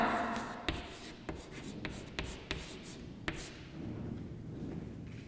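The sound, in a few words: writing on a board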